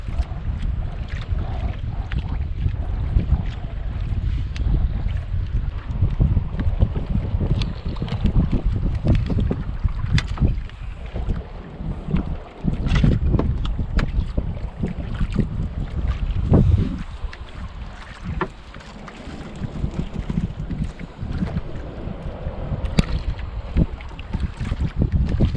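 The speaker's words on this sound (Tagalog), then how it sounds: "Medyo malakas ang amihan." A strong northeast monsoon wind blows at sea around a small fishing boat at night, a steady loud rush with gusts buffeting the microphone and water sloshing, with no voices over it.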